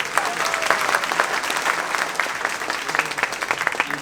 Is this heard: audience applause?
yes